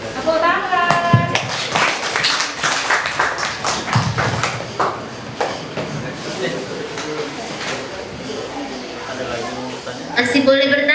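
Uneven clapping from a small group, probably children at a school workshop, comes in scattered bursts of sharp individual claps with voices talking and calling over them.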